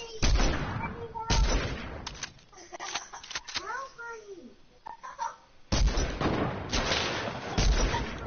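Bursts of video game gunfire, loud rapid shots clustered at the start and again near the end, with excited voices talking over and between the volleys.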